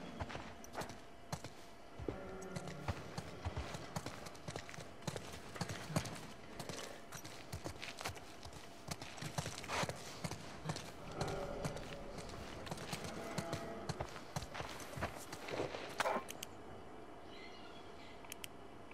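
A horse's hooves clip-clop steadily in the video game The Last of Us Part II. The quiet, rhythmic patter runs throughout, mixed with soft in-game ambience.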